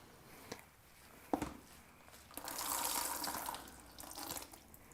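A piece of fabric being lowered into a hot dye bath in a pot gives faint splashes and bursts of sloshing, trickling water, with quiet handling knocks in between.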